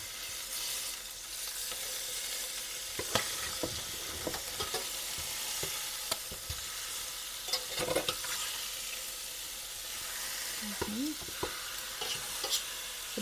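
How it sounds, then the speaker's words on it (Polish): Meat for a homemade collagen broth sizzles and fries in a pan, a steady close hiss broken by scattered clicks and scrapes of turning and stirring, with no talk over it. "I teraz niech się smaży z drugiej strony do kolorku brązowego."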